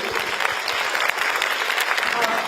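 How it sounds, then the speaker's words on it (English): An audience at a dermatology association's annual meeting opening ceremony applauds a speaker, with dense, continuous clapping at moderate distance and no gaps. "Let's give a big round of applause for Professor Zhao."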